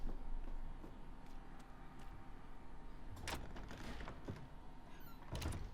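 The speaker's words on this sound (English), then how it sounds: "go through a door opposite" A door opens in the horror game Tormented Souls 2, a faint creak and soft thunk over a low, steady ambient hum.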